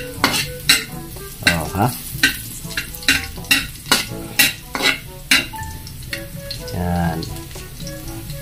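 Garlic sautéing in a small amount of cooking oil, a loud crackling sizzle punctuated by a regular series of sharp metal scrapes and clanks from a spatula stirring in the pan, with a few brief spoken words.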